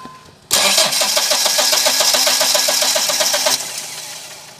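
Mahindra Bolero Maxi Truck Plus pickup's diesel engine cranking with starting trouble, a loud, steady rapid chug of the starter turning over for about three seconds without catching, then cutting off.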